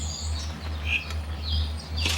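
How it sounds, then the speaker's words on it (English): Sydney birds chirping and tweeting in short bright bursts, several distinct calls scattered over a couple of seconds above a constant low mechanical hum, no talking. "Listen to those birds."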